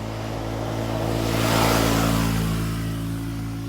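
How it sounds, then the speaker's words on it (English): A four-wheeler ATV engine revs as it rides past along a residential street, a buzzing motor swelling louder as it nears mid-pass and then easing off as it moves away. "this girl's been riding around on this fucking four-wheeler"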